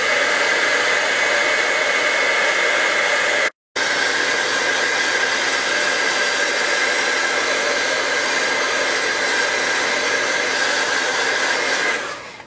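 A hair dryer blows on painted stars to speed up drying. It makes a loud, steady airy roar that drops out for a moment, comes back, and runs on evenly until it switches off at the end.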